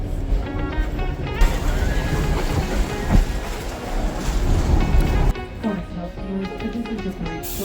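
A Kuranda Scenic Railway train rolling through Barron Gorge in Queensland, Australia, with a steady rumble and clickety-clack of wheels that swells around the middle and then eases, and faint voices underneath.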